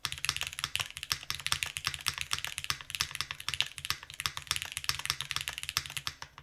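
Fast, steady typing on a Tiga by Machina mechanical keyboard fitted with GMK keycaps, a close, crisp stream of clacky keystrokes with no talking.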